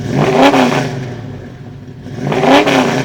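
A Dodge Challenger's exhaust with 50 Series Delta Flow mufflers rumbles deeply as the engine revs up twice, swelling and easing off in between, loud and close.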